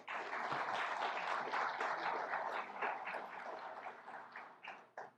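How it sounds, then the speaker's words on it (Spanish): Sustained applause from an audience at a technical conference welcoming a guest speaker, a dense wash of many hands clapping for several seconds before tapering off near the end. "Un fuerte aplauso para recibirlo."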